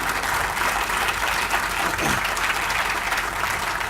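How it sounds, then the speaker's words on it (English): An outdoor crowd at the Black History Museum of Richmond groundbreaking gives a sustained, dense round of applause, steady and loud throughout. "Let's give Stacy a round of applause."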